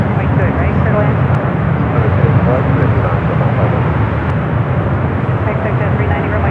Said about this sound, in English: We got that United Dreamliner now rocking and rolling it down the 28 left.